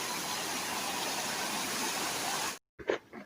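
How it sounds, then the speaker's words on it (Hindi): Two waterfalls merging and flowing at Usgaon Tisk in Goa, a steady broadband rush of falling water that cuts off abruptly near the end, followed by a few brief faint knocks. "ये शायद यहाँ पे 2 झरने मिक्स हो रहे हैं"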